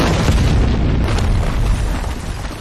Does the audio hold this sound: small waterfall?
no